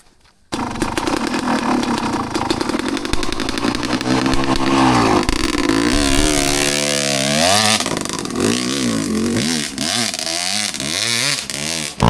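A Yamaha XTZ125 motorcycle engine revving hard and labouring up a dirt trail in Montalban, Rizal, pitch rising and falling with repeated throttle bursts, close and loud.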